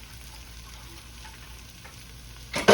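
Beef base being stirred into a sizzling pan for an old-school braised beef pot roast, a quiet steady frying hiss with a louder burst of scraping and sizzle at the very end; no one speaks.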